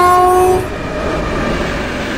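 EP09 electric locomotive in the MaSzyna train simulator game, a loud horn note cut off after half a second, then a steady heavy rolling rumble of the train running at speed.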